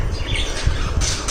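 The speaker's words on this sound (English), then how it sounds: "Can you all stop chirping so much?" Pet birds, including a small one named Goldie, squawking and chirping close up in short overlapping bursts, with light rustling and wing flutter around them.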